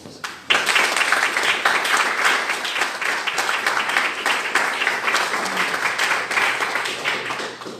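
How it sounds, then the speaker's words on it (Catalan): Sustained audience applause at an awards ceremony breaks out suddenly and continues as dense, even clapping from a crowd for several seconds. "Convidem a pujar un aplaudiment."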